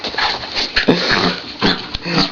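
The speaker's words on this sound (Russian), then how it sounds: "Сдуревшая собака." A dog whimpers and yips in short, close, high-pitched bursts with brief pauses between them, no talk over it.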